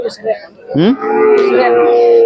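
A pregnant Khillar cow at the Sangola cattle market in Solapur, Maharashtra lets out one loud, close moo that rises and then holds a long sustained tone, after faint background chatter.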